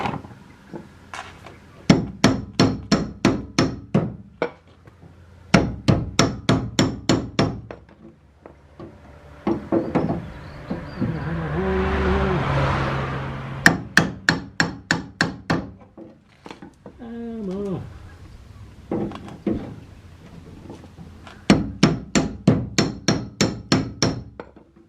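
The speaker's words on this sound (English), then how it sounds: "Hammer." A hammer strikes repeatedly at a Ford Capri fuel sender in bursts of rapid, loud metallic blows, with pauses between the groups and some rustling handling noise in between.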